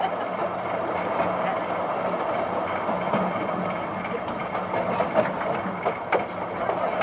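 A train on the Oigawa Railway Ikawa Line rolls along with a steady, moderate rumble and light rattling and clicks, heard continuously from inside the carriage.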